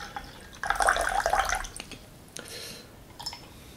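Brewed Vietnamese green tea from Hà Giang being poured off, a short close splashing pour of liquid followed by a few faint drips and trickles, with no talk.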